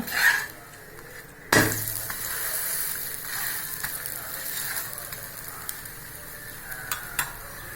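Green gram dosa cooks in sesame oil on a pan with a steady close sizzle, broken by a sharp metallic clank early on and a few light utensil ticks, with no voices.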